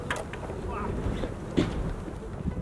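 Steady gusty wind roars across the microphone, a continuous low rumble with brief buffeting bursts, as wet snow falls at a trout fishing pond.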